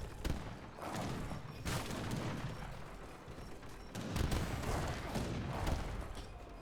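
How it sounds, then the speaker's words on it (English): Horse cannon shots in an Age of Empires III treaty match, a dense barrage of booming artillery fire and thuds rolling through the whole stretch, with heavier bursts near the start and again toward the end. "some really big horse cannon shots going off on all our infantry"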